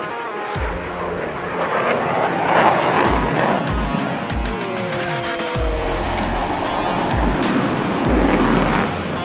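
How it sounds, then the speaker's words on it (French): Loud, continuous fighter jet engine roar close by, with a rising high whine and repeated low thumps underneath. "il y a un avion de chasse juste derrière."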